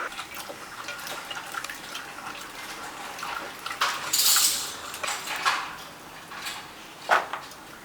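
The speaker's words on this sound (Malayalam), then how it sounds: "ചക്കക്കുരു എടുത്തിട്ടുണ്ട്. ഇപ്പോൾ ഇത് ഒന്ന് ക്ലീൻ ചെയ്തെടുക്കാം." Jackfruit seeds being washed in a bowl or pot of water in a Kerala kitchen, with soft sloshing and scattered clinks and rattles against the vessel, plus a sharper clatter near the end.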